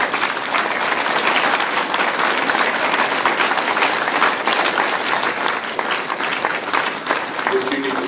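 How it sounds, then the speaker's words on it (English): A loud, sustained round of applause from an audience at an evening stage event, dense even clapping from a large crowd that continues steadily throughout with faint voices underneath. "Please give all of these people a round of applause."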